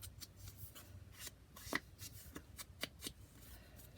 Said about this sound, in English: And I do need to do a little distressing.